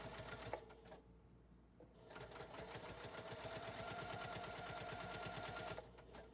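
JUKI sewing machine stitching a fabric car organizer, back tacking at stress points: a steady, fast needle rattle runs close and loud after a short pause near the start, with brief gaps where the stitching stops and reverses.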